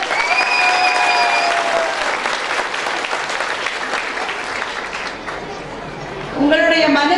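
A large crowd at a Tamil public speech event breaks into sustained, dense applause that swells and holds for several seconds, with whistles over it and a voice rising at the end.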